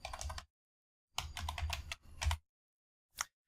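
Typing on a computer keyboard, close and quiet, in three quick bursts of rapid key clicks separated by pauses, ending with a single keystroke.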